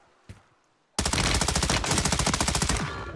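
An M13B rifle fires in the Warzone video game. After a single sharp shot and a pause, a loud, rapid burst of automatic fire follows, with an even run of shots lasting about two seconds.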